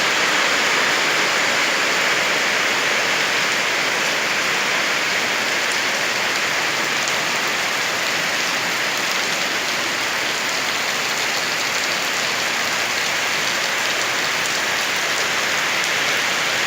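Heavy summer storm rain pouring at 4 am in Sung Noen, Korat, a dense, steady, loud hiss of large raindrops hammering surfaces without pause, with no voices.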